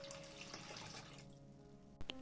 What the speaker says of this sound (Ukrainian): Цибулю промиватиму в мисці питною водою